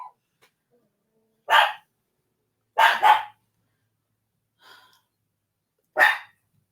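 Dogs give four separate barks, one of them a quick double, near and loud, spaced a second or so apart with quiet gaps and a faint yip between them.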